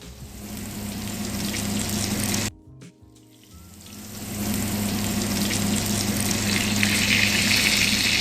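Panko and Parmesan breaded chicken cutlets sizzle steadily in hot oil, a dense crackling hiss that briefly drops out then resumes full and close for the rest.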